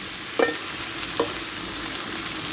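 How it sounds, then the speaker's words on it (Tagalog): Sliced leftover fried fish stir-fried in a pan, a steady close sizzle with two brief scraping stirs of a utensil, no talk. "Stir fry just a little bit."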